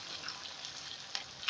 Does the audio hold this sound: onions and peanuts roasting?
yes